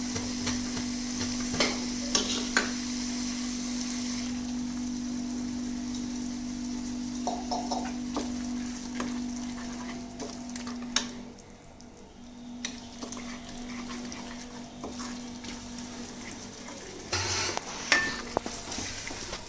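Spice masala and cashew paste fry in oil in a pan, a steady sizzle running throughout with scraping stirs and occasional clinks of a spoon, close and moderately quiet.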